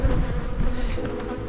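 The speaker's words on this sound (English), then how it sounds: "looking at old swarm number 1 here, seems like there's more bees" Honey bee swarm clustered on a branch, a dense, steady buzzing drone close by, with individual bees flying past now and then.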